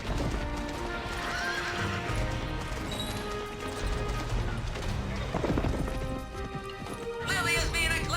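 Horse neighs and galloping hoofbeats from the Petz Horse Club video game sound loud and steady under a constant layer of game music, with a burst of brighter clatter near the end.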